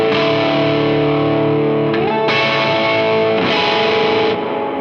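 Overdriven electric guitar played in the middle pickup position with both pickups on: loud, close, sustained distorted chords with a few fresh strums that let each chord ring.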